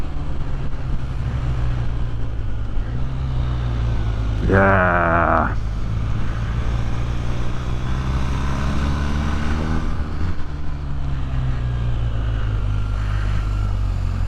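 A 2023 BMW R1250R boxer-engined motorcycle ridden along a road gives a steady, close low engine drone mixed with wind rush, with a brief shout from the rider partway through.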